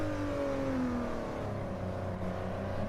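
Racing video game cars run side by side at Autopolis, one of them a yellow and blue Volkswagen. A steady engine drone carries a gliding pitch sweep as one car revs and shifts, close and continuous with no talk.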